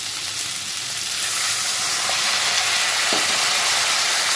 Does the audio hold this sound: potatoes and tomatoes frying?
yes